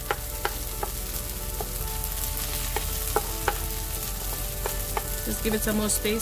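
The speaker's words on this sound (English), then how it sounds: "I'm going to cook these tomatoes, fry them nicely for about a minute" Tomatoes frying in oil in a pan for an okra and scrambled egg stir fry, a steady close sizzle with occasional clicks and stirring scrapes; a voice says a few words partway through.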